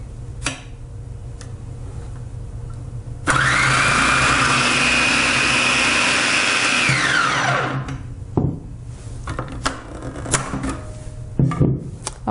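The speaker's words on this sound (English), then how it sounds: "I'm going to brave it and slice this cucumber" A food processor motor slicing a cucumber roars up abruptly and runs loud and steady for about four seconds, then winds down with a falling whine. Quieter handling clicks and knocks follow it.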